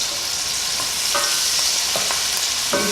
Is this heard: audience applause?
no